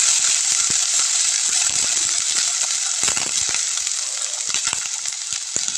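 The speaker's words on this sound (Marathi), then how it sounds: "त्यामध्ये मी जे धुवून घेतले गोबी ते मी त्यामध्ये ॲड करते" Washed cabbage is tipped into garlic already frying in a pan, setting off a loud, steady sizzle with scattered clicks and scrapes of stirring throughout.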